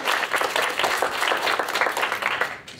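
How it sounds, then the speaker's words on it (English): A summit audience gives a panel speaker a round of applause, a dense, loud wash of many hands clapping steadily throughout with no talking. "Give Alpha a round of applause"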